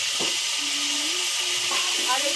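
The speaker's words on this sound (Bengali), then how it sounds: "শিম, বেগুন, টমেটো হালকা করে ভেজে নিয়েছি" Cut eggplant and beans fry in a pan, a steady hissing sizzle with a faint stirred scrape, close up and even in level, with no talking.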